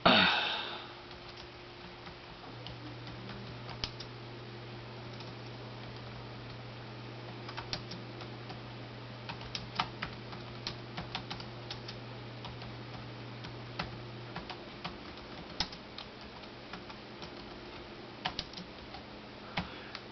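Keys clatter on a computer keyboard in irregular bursts, slow hunt-and-peck typing close by, with a faint steady hum underneath and no voices.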